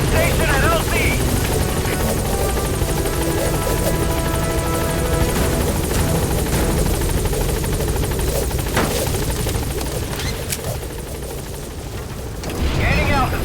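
Helicopter Pequod arriving at a landing zone in Metal Gear Solid V: a loud, continuous rotor drone fills the scene from start to end, dipping slightly near the end, with a voice talking over it.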